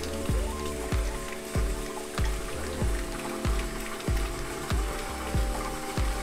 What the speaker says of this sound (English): until you start to hear it sort of kicking up a bunch of foam